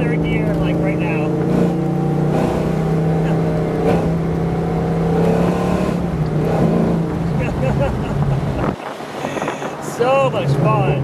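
Supercharged 1993 Ford Mustang GT Fox Body hatchback engine droning steadily under acceleration from inside the car, loud with wind noise, the pitch rising then dropping sharply at a gear change before climbing again.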